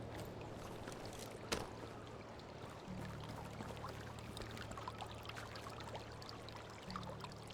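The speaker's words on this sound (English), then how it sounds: "There is some water here somewhere in the dark." Water in a dark area of the video game Medieval Dynasty flows in a steady, faint trickle alongside a low continuous hum, with a single brief sharp knock partway through.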